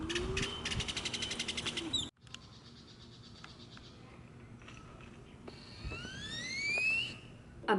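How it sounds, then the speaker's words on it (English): A bird calls outdoors at a retreat near a pool area, giving a few rising whistled notes late in the clip after a steady electronic beeping tone cuts off, with faint background hiss. "A bird just gave a sound effect to my zooming in."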